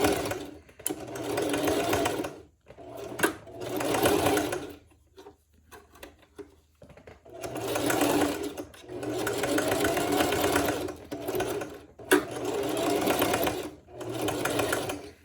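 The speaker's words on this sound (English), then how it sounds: "You can hand stitch it to secure it first and then go in with your machine, but I just use my machine." Sewing machine stitching through a wig being resized, running in several loud bursts of rapid mechanical whirring separated by brief pauses and quieter handling sounds.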